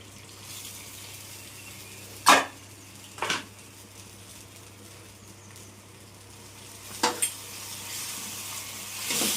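Tamarind sauce with dried red chillies and curry leaves simmering in a pan, a soft steady bubbling hiss with a few sharp scrapes of stirring and clinks against the pan.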